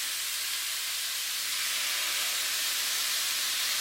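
Cooking wine hits a hot pan of pork and celery stir fry with a loud, even hiss of steam that holds unbroken for several seconds.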